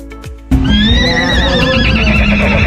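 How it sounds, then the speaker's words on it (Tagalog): A horse near a beach resort lets out a loud, close whinny that trails off over a couple of seconds, with faint hoof clops and ambient noise around it. "Kabayo."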